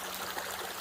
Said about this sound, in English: Let me cross this little creek here and get to the other side.